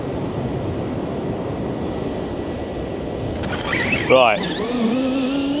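A budget RC car running fast on sand: a steady rushing drive noise, then a rising and falling high motor whine as it speeds past close by, with a brief spoken word.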